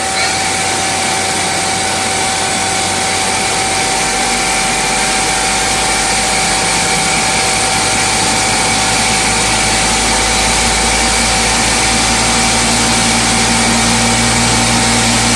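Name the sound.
CGF chuck spinning up to 3,500 RPM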